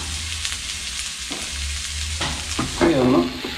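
Food sizzles in a frying pan while being stirred, a loud close frying hiss with a few scraping strokes of the spatula and a brief squeaky scrape near the end.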